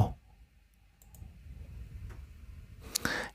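A sharp computer mouse click on a website's submit button near the start and a burst of crisp clicks near the end, over a low background hum.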